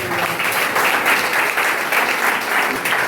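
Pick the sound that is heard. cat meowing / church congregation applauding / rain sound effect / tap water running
church congregation applauding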